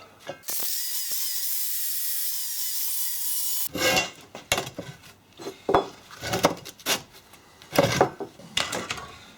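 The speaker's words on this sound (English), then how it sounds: "bevel the edges so that when you go to weld, I've got a V-joint to fill" An angle grinder bevels the edges of a metal plate to form a weld V-joint, starting with a loud, steady abrasive whine. This is followed by a string of sharp metallic clanks and rattles as the workpiece is handled.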